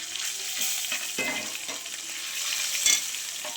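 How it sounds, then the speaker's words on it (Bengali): Dried red chillies, bay leaves and cumin seeds hitting hot oil in a pan, a bright close sizzle with crackling spits and occasional stirring scrapes, with no voice over it. "এই তেলে দিয়ে দিচ্ছি শুকনো লঙ্কা, তেজপাতা আর সাদা জিরে।"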